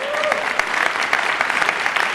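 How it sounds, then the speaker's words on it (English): Audience at a stand-up comedy competition breaks into steady applause, dense clapping throughout, with a brief vocal sound near the start. "Can we give her a round of applause?"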